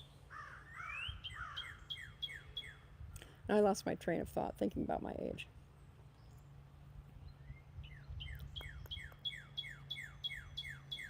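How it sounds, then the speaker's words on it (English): Outdoors, a songbird repeats quick descending chirping phrases near the start and again toward the end, fairly faint, with a person speaking in between. "Does anyone know what that bird is?"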